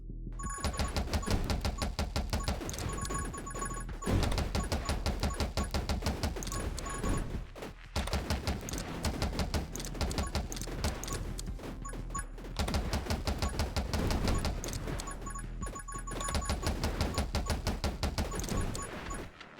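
Rapid automatic gunfire in the video game 20 Minutes Till Dawn, a dense continuous stream of shots in long bursts broken by short gaps, loud and alone over a steady game backdrop.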